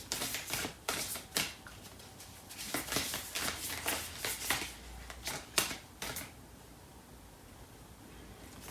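Tarot cards being shuffled and pulled from a deck, giving a close series of crisp flicks and rustling slaps that trail off into quiet near the end.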